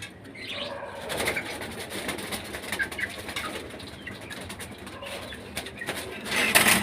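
Budapest highflyer pigeons in a loft, soft cooing and a few wing flaps amid steady background noise, with a bird call rising near the end.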